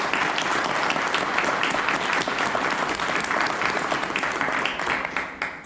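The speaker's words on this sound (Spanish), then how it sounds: "Le damos un aplauso, por favor." Sustained audience applause at a Mexican engineering society conference honoring a council member, dense steady clapping from a large crowd filling the whole stretch, tapering slightly at the end.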